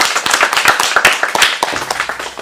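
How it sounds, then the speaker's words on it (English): A small crowd claps enthusiastically, a dense run of hand claps that stays loud and close before thinning slightly at the end. "Let's get a round of applause."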